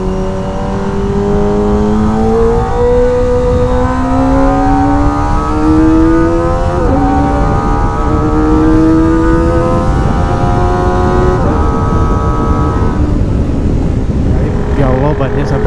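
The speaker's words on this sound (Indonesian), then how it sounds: "ini suara motor apa nih?" Kawasaki ZX25R motorcycle engine heard while riding, a loud, continuous whine that climbs steadily in pitch, dips briefly at a gear change and climbs again before easing off near the end.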